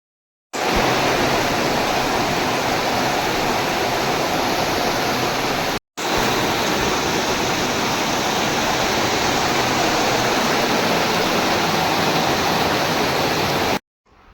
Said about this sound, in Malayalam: പിന്നെ ഇതാ കുറേ കഴിയുമ്പോൾ നല്ല മഴയാണ് കേട്ടോ ഭയങ്കര മഴയായിരുന്നു